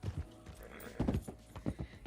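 Horse hooves in Red Dead Redemption 2, several quick clip-clop steps at a gallop, moderately loud and close, with a brief cluster of heavier impacts partway through.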